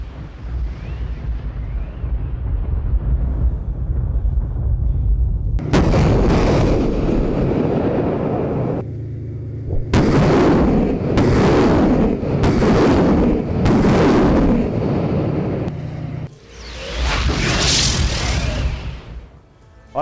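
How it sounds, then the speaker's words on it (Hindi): Artillery cannon fire shells a Russian weapons depot in Ukraine, producing a series of loud, booming explosions in repeated bursts with heavy rumbling between them and one sharp, bright blast near the end. "ये हथियारों के गोदाम पे इस तोप से बम बरसाए जा रहे हैं"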